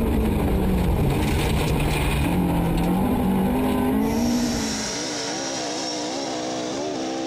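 A 2.5-litre Ford Escort rally car, struggling for grip on a loose gravel forest stage, roars loudly and continuously close by, the engine note rising and falling as it fights for traction.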